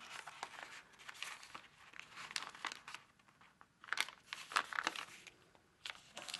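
Origami paper is folded diagonally in half, with close, soft crinkling and crisp creasing rustles in irregular bursts and brief pauses, alone and quiet.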